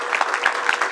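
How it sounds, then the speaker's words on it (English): A crowd at a film Q&A applauds the producers of Attack the Block, a brief, steady patter of clapping without any talk. "I think they should get a round of applause"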